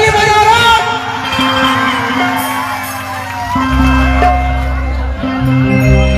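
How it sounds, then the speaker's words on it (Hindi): An audience at a stage show in Jharkhand cheers, whoops and shouts loudly in a dense crowd roar. Scattered clapping and a voice over the sound system come through underneath. "ताली बजाओ"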